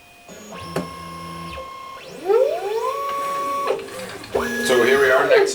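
A 3D printer building a human skull model layer by layer, its stepper motors whining in rising and falling tonal sweeps with steady mechanical hum, loud and close throughout.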